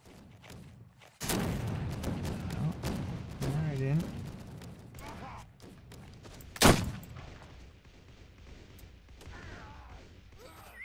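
One loud, sharp gunshot cracks out in the Blood & Gold: Caribbean video game, with thuds and battle noise before it and someone talking over the scene.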